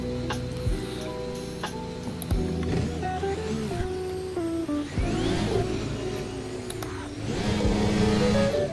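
A racing car's engine in the Assetto Corsa VR sim revs up and down repeatedly with gear-change steps, loud and close, rising to a stronger pull near the end with no talking.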